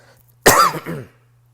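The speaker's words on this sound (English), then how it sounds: "I'm sorry, I'm coughing." A single harsh cough bursts out, followed by a couple of rougher, fading hacks, close to the mic against near silence.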